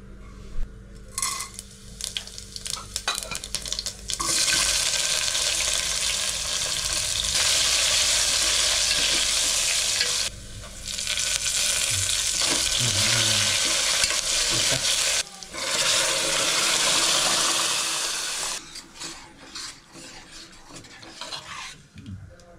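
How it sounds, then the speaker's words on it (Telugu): Loud, continuous sizzling of spices hitting hot oil as tempering for gongura dal, crackling steadily with brief pauses and some stirring scrapes, no voices. "తర్వాత ఈ పప్పుని తాలింపు పెట్టుకోవాలండి"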